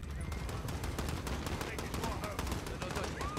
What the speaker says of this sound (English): I don't know where they're shooting from.